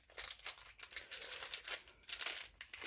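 Paper on a Harry Potter advent calendar is cut and torn open with scissors, producing close, irregular bursts of crinkling and ripping, fairly quiet, with no talk.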